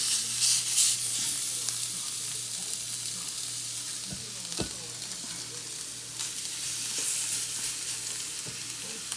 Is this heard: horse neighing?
no